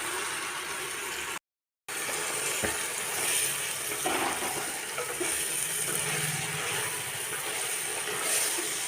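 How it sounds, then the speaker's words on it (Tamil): Ivy gourd leaves sauté in a pan, a steady soft frying hiss with occasional stirring scrapes, continuous apart from one brief dropout near the start. "நல்லா சுடு கீரை சுருண்டு வர அளவுக்கு வணக்கிக்கலாம்"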